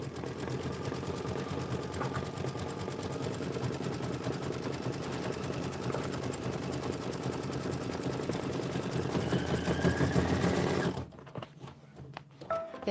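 An embroidery machine sews a wide satin stitch, running as a loud, even mechanical whir for about eleven seconds before it abruptly stops.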